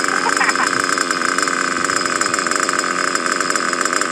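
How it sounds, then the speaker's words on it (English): Nitro-powered RC car engine idles in a steady, buzzing high-pitched drone, loud and close, holding a constant rattle throughout. "Now I don't know how long it's gonna idle, but we'll see."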